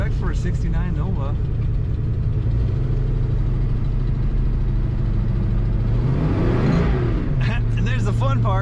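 A 1969 Chevrolet Nova 396 rumbles nearby, then surges through a loud rising rev as it accelerates hard, with brief talk at the start and end of the run.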